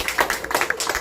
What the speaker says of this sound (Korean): 다시 한번 박수 부탁합니다